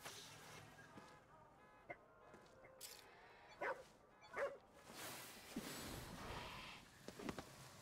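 A dog in the video game Ghostwire: Tokyo gives a few short, faint barks and yips among quiet game ambience, with a brief spoken line.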